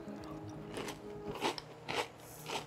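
Crunchy Magic Spoon high-protein cereal being eaten, with several close crisp bites and chewing crunches in irregular bursts over a faint background hum.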